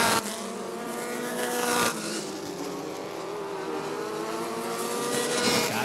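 Midget race cars roar around Rockford Speedway in an Illini Midget feature, engines screaming loud and continuous with a brief dip as cars pass, then surging again.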